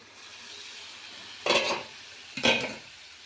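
Bottle gourd goes into a pan of cooked-down spices, giving two short bursts of frying and stirring about a second apart. Each burst is a close scrape and sizzle over a faint low hum.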